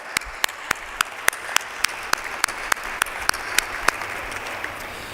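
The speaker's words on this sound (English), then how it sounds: "Let's give one more round of applause as we thank you, David, for all you've done for Spider Athletics." An audience at a university athletics awards ceremony applauds. The clapping is steady and moderately loud, with a few sharp, evenly spaced claps standing out near the microphone.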